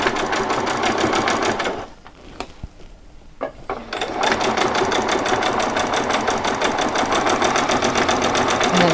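A sewing machine stitches a Christmas party dress with a fast, steady mechanical whirr and rattle, pausing briefly in the middle with a few clicks before running continuously again, close and loud.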